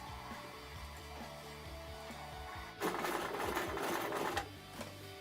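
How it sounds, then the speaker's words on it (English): Sewing machine running a straight stitch on stretchy T-shirt material, a quiet hum that gives way to a louder, faster whirring burst of stitching for about a second and a half before slowing. "you may want to do a stretch stitch or a zigzag. I personally just do a straight stitch."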